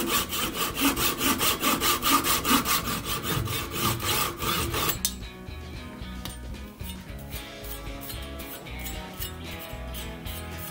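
Sawing wood on a model ship: rapid, even back-and-forth rasping strokes for about five seconds, then softer, irregular scraping and light tapping continue close by.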